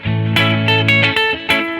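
A guitar sounds a short run of five or six ringing notes drawn from the chord tones of a major pentatonic scale shape, each plucked clearly and sustaining alone.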